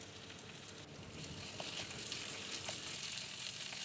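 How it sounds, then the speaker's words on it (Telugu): Onions with ginger garlic paste fry in a pan for a boiled egg curry, giving a steady, faint, even sizzle with a few small pops and no voices. "అప్పుడు ఒక 1/2 స్పూన్ అల్లం వెల్లుల్లి పేస్ట్ వేసి వేయించుకోవాలి"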